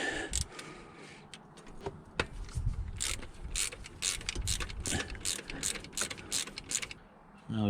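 A ratchet undoes two 11mm bolts on the carburettor bracket of a Triumph TR7, giving bursts of quick close clicking pawl ratchets separated by short pauses.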